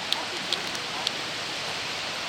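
Rain pouring heavily in The Witcher video game during a boat scene, a dense steady hiss of falling water throughout, broken by a few faint light ticks.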